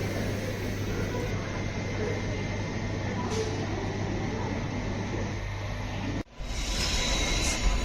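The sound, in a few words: Mettur Dam Express train departing Salem station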